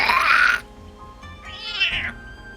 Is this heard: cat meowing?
yes